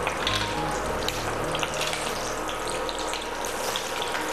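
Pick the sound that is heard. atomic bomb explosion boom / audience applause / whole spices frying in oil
whole spices frying in oil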